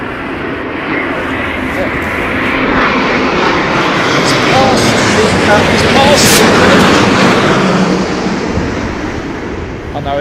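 An airliner on final approach to land at Heathrow in stormy Storm Nelson winds, a loud rushing jet roar swelling to a peak and then easing, mixed with heavy wind buffeting, while people talk excitedly over it.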